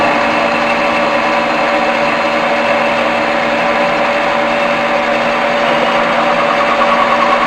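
A metal lathe runs steadily as the cutting tool is eased slowly toward the workpiece, giving a loud, constant mechanical hum and whine close by with no talking.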